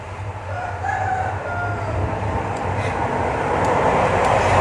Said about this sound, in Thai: ไก่ขันแล้ว